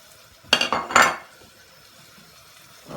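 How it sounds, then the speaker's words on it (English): Chopped garlic and onions frying in oil are stirred in a pot, giving a few quick scraping clatters of spoon against metal over a soft, steady sizzle. "give that a little stir around for a minute"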